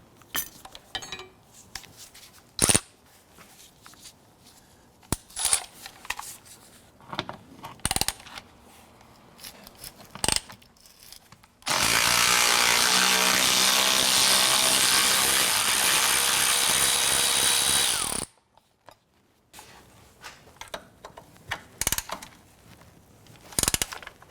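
Ratchet removing 10mm bolts on a 2004-2008 Acura TL during front CV axle replacement, with scattered metallic clicks and clinks and a loud sustained burst of rapid ratcheting in the middle, close with no talking.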